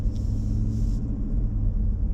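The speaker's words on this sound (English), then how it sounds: "So in the quiet mode that we're in now, it sounds pretty much exactly like it did before we made our change." A Jeep Wrangler Rubicon 392 with an H-pipe exhaust set to quiet mode gives off a steady, muffled low rumble throughout, with no voices over it.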